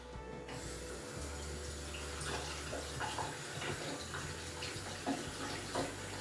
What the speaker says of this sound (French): Alors, je vais d'abord me laver les mains.